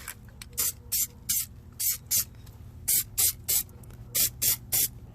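Plasti Dip coating sprays onto car rims in about a dozen short, evenly spaced hissing bursts from an aerosol can, close and clear over a low background hum.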